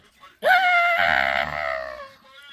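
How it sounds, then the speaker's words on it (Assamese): A sudden, loud, piercing scream used as a sound effect in a horror story about a haunted camping trip rises sharply, holds for about a second and a half, then trails off alone. "তাৰপিছত চব অন্ধকাৰ এটা চিঞৰত পৰিণত হ'ল।"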